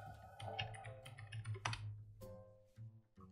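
Someone types a command into a Linux terminal on a computer keyboard while setting up Pi-hole, producing a quick run of close, light key clicks with small pauses between them, plus a low steady hum underneath and no talking.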